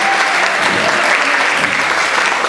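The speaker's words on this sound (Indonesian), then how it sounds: "dipersilakan tepuk tangan kepada Presiden BEM kita." A university audience at a student council presidential debate breaks into loud, dense applause, a continuous roar of many hands clapping close by with no speech over it.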